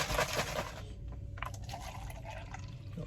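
Water sloshes inside a shaker bottle being shaken to mix a mocha cappuccino drink, a quiet, continuous liquid churning heard up close with no talking.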